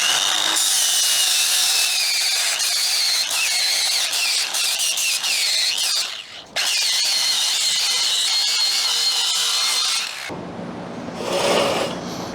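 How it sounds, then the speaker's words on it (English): A flap disc grinder whines steadily at close range as it scrubs rust off metal before welding, dipping briefly mid-way, then cutting out near the end and leaving quieter handling noise. "Let's take our flappy disc and clean up the rust on these so we can weld."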